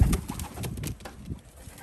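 Racing pigeons coo softly in their loft, low murmuring calls in short repeated phrases with a faint flutter of wings, close by and without talk.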